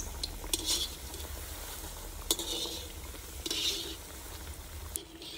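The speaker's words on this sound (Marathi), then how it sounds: "टिक्की ही आपली एकदम मंद आचेवर तळायची आहे. एकदम लालसर कलर येईपर्यंत तळायची आहे." Green pea tikki frying in oil over a low flame, a steady soft sizzle with occasional light scrapes and taps of a utensil against the pan, close and unhurried.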